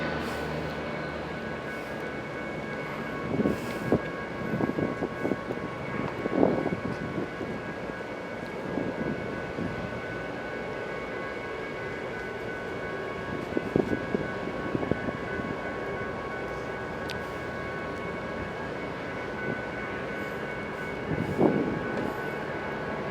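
An eastbound freight train rolls past with a sustained low rumble of engine and wagons, swelling and easing with a few louder surges and a faint horn-like tone throughout.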